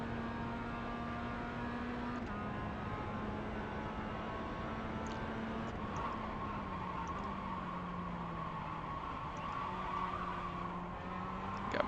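Mazda race car in the iRacing video game at Laguna Seca, engine drone steady and shifting pitch as the rear end slides, with faint tire scrub under it; no talk.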